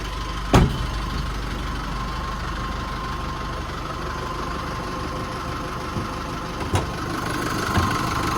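A 2019 Holden Colorado LS-X engine idles with the bonnet open, giving an even low rumble throughout, with a couple of sharp clicks near the start and again later, and no voices.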